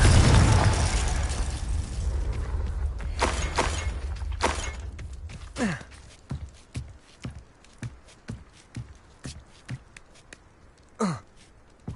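Explosive spells cast in combat in the video game Hogwarts Legacy: a loud burst that fades into a run of sharp, evenly spaced cracks and pops, each with a brief whooshing tail, and no talking.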